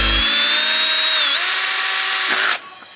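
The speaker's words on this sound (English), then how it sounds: "There's where you want to drill your pilot hole." A power drill whines at high speed while boring a pilot hole into the plastic side mirror housing of a 2022–2023 Honda Civic, a loud steady buzz that rises slightly in pitch, then cuts off abruptly, leaving a quiet hum.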